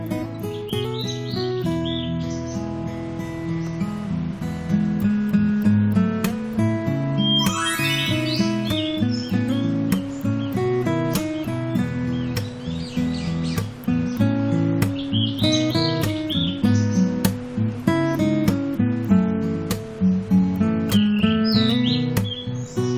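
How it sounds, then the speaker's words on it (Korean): Birds chirp and tweet again and again in a forest on Ulleungdo island, South Korea, over a dense, steady tonal background, the calls bright and scattered throughout. "숲속에서 저런 새소리 들으면 정말 힐링되죠."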